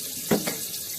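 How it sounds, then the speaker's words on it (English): A small amount of water poured onto a thawed potted plant indoors, a brief close splash lasting under a second followed by quiet trickling. "I'm going to give it just a little bit of water before I take it over to the grow light."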